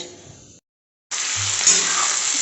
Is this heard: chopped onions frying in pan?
yes